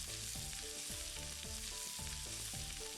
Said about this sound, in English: That's mutton sauté. Pretty common here. That sizzling is loud.